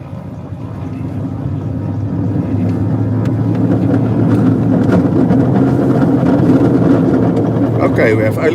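The engine of a JS2 light aircraft during its first test flight runs at a steady loud drone that builds in the opening seconds of the takeoff roll and holds through to liftoff, while a pilot talks over it.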